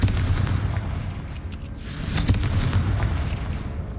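A Confringo blasting spell goes off in the Hogwarts Legacy video game, with a deep rumbling boom and sharp bursts layered over a low, sustained roar and no one talking.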